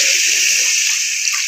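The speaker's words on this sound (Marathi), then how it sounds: "आता याच्यामध्ये तुम्ही आवडीनुसार पाणी घालू शकता." Water is poured into a pan of stuffed brinjal curry (bharli vangi rassa bhaji), making a steady, close, splashing gush that lasts the full moment with no voices over it.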